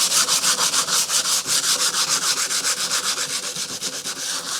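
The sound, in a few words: hand sanding an axe handle with 120 grit sandpaper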